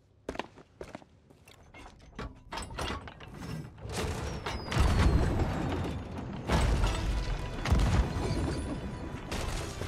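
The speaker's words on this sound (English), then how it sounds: "Getting their anchor up right now." A ship's anchor being raised in Sea of Thieves, a rhythmic ratcheting clank of capstan and chain building from scattered clicks into a steady, fairly loud mechanical grinding with creaks.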